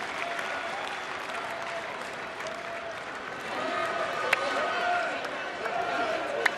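Stadium crowd at a Wales v Kosovo women's Euro qualifier football match in Llanelli, a steady broad roar of applause and crowd noise with a few sharper claps standing out and commentary running over it.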